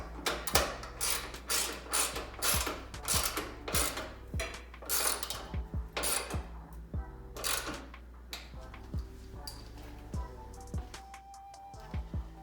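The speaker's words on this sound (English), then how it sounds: "Now I take the time to go ahead and tighten these ball joints or nuts on with a 13mm wrench and socket." Nuts on aftermarket hood strut brackets of a 2005–2014 S197 Mustang being tightened with a 13mm wrench and socket, giving a close, steady run of rapid ratchet clicks in quick bursts and a few metallic taps.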